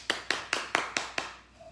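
Clapping in unison from a church congregation acclaiming the Lord at a live preaching service of L'Église La Grâce Divine in Berlin: six sharp, evenly spaced claps in a steady quick rhythm, each ringing briefly in the room, then fading into quiet.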